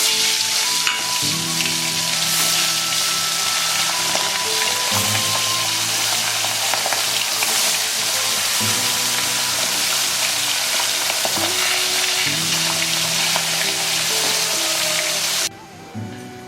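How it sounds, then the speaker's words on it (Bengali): Pomfret fish fry in hot mustard oil in a kadai, a dense, steady sizzle and crackle close up, with faint periodic stirring or shifting sounds, and no voices. "একে একে মাছগুলোকে ভেজে নেব।"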